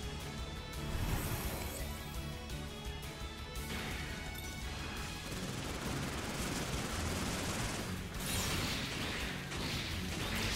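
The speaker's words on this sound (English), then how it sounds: "You can shoot the Gatling gun for a really long time, too." A Gatling gun fires in Gundam Breaker 4 as a continuous, dense roar of rapid fire lasting the whole stretch, loud and steady, with crashing impacts mixed in and no talk.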